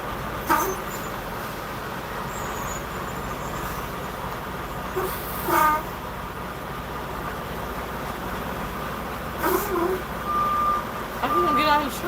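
A truck reverses very close by, its backup beeps sounding in short intermittent bursts over a steady road and engine rumble while a person talks.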